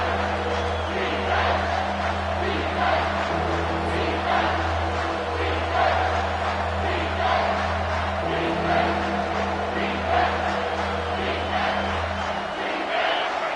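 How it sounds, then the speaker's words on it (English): A loud football crowd roars on third down, a sustained dense wall of yelling and chanting with a steady low drone beneath, dropping away at the very end. "Third down, and this crowd is tearing the lid off this place."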